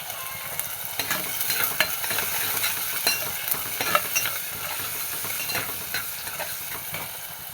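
Mustard seeds, fenugreek and a small chopped onion fry in oil for a Kerala mackerel curry, a dense, continuous crackle of popping seeds with frequent tiny bursts, steady and close throughout.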